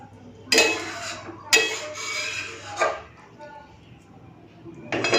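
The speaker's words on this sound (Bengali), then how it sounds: "তো বেগুন দিয়ে রুই মাছের ঝাল হয়ে গেছে নামিয়ে ফেলবো এবারে" A pot of spicy rohu fish curry with eggplant, made with mustard paste and green chilli, is lifted off a kitchen stove: four sharp metallic clanks and scrapes come close by at irregular intervals, with quieter shuffling in between.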